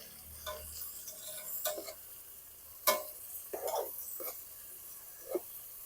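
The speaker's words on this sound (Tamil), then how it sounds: "சின்ன வெங்காயம், பச்சை மிளகாயும் இப்போ வதங்கணும்." Shallots, green chillies and mint sautéing in a pan produce soft frying sizzle mixed with scraping and stirring strokes, irregular bursts of spoon-on-pan scrapes over a quiet background.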